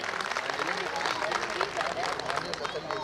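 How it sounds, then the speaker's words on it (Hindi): Audience applause for dancers at a school annual function; moderately faint, continuous clapping with crowd murmur and voices mixed in. "जोरदार तालियां हो जाए हमारे वंडरफुल डांसर्स के लिए"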